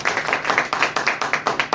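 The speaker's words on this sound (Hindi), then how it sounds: "तो ताली बजा दो एक बार" An audience at a Hindi poetry recital claps in a quick, steady rhythm, about nine crisp claps in under two seconds, close and fairly loud with no talking.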